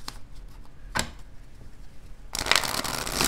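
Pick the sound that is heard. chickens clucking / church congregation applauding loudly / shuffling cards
shuffling cards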